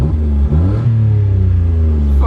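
A Citroen C1 car with a newly fitted rev counter pulls away. Its engine rumbles up in a short, close rev while a voice speaks briefly at the start.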